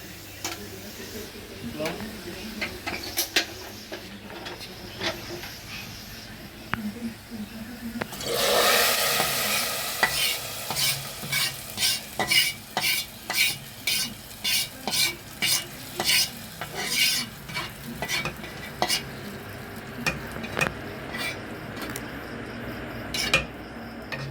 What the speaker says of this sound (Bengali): পেঁয়াজ আর রসুন এখন বাগার দিয়ে দিব